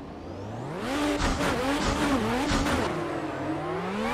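Simulated BMW E36 competition car in the DCGP racing game, its engine revving hard through the gears with rising and falling pitch and tire noise, loud and continuous.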